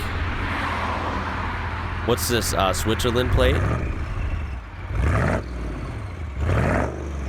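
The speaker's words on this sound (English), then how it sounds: "Let's hear one revving up, just point blank." Diesel cars in Europe, one with a Swiss plate, rev up close by in sharp bursts, with a brief high run of revs and two later throttle blips, while someone talks over the engine noise.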